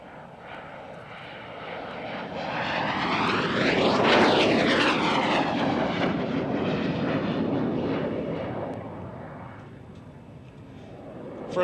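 A fixed-wing aircraft passes during an airshow at Kemble. Its engine roar swells to a loud peak as it flies overhead, with a clear falling pitch, then fades steadily into the distance.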